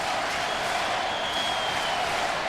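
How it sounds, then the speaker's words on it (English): A football stadium crowd cheers in a continuous, dense roar, loud and sustained from start to finish with no pauses. "I know the crowd's now alive"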